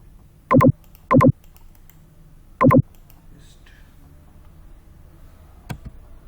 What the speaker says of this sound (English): so I'm typing print of